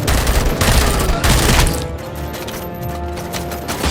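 Sustained gunfire from the RoboCop Rogue City video game, a dense fusillade of rapid shots up close that thins into scattered bursts over a rumbling battle bed.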